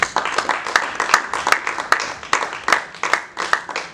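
A church congregation applauds together, with a fast, dense run of claps that pulses in steady rhythmic bursts, loud and close.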